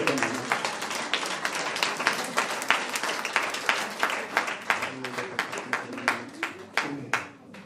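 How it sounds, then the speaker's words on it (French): An audience at a revival seminar applauds the technical crew with moderately loud, fairly even clapping. Individual claps grow more distinct and spaced as the applause thins toward the end. "On applaudit la technique parce qu'ils se sont embêtés."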